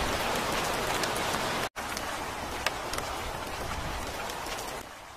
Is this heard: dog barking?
no